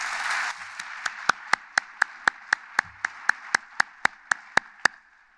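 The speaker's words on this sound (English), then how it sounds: "Yes, you can applaud her." At a philanthropy event's closing, a lone, evenly spaced run of sharp claps follows a brief burst of crowd noise, close and crisp, keeping a regular beat for about four seconds.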